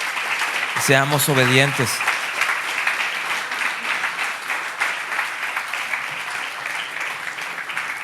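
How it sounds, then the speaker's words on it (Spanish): Strong congregation applause at a Spanish-language church service, sustained dense clapping that runs throughout, with a preacher's voice briefly heard over it near the start. "Dale un fuerte aplauso al Señor"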